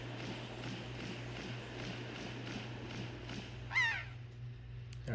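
A seagull in The Legend of Zelda: The Wind Waker gives one short, sharp descending cry near the end, standing out over a steady low game hum with faint rhythmic ambience.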